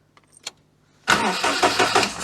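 Engine-swapped Daihatsu Charade starting up: a few faint clicks and a brief whine, then the engine catches abruptly and runs loud and rough close by.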